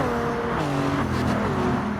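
Roaring engines of race cars, including a Mercedes and a Porsche, battling in Gran Turismo at St. Croix, loud and continuous with shifting engine pitch as the cars pass.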